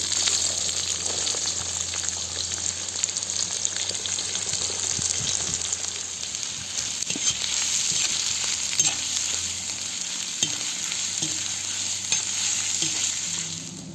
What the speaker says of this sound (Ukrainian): Цибулька обсмажується